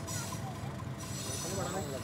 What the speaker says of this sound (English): The 1350 horsepower Alco design YDM 4 number 6734 will perform the role of the helper today.